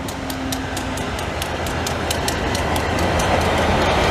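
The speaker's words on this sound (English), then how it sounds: "Holy shit, a Via train. Wow, rare." A Via Rail passenger train hauled by a Genesis locomotive rolls through a station, with loud steady rumble and rhythmic clickety-clack of wheels over rail joints, close and continuous.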